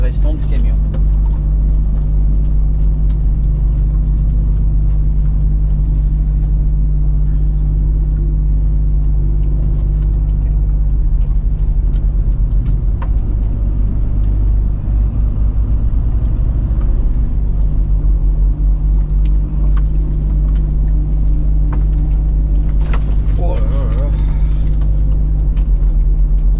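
A lorry drives along the road near Grézillac after six pallets are loaded, its steady low engine rumble and road drone continuous and close throughout, with talk over it.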